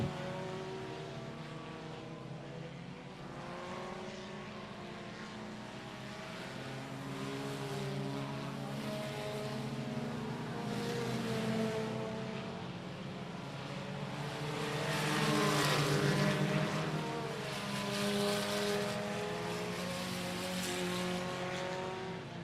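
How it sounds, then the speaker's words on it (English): Race cars at I-37 Speedway, a short-track oval, roar past as a pack, their engines whining and swelling together. The engine drone builds to a louder peak midway and then eases. "Jamie Garner and Brandon McCall once again pulling away from the rest of the pack"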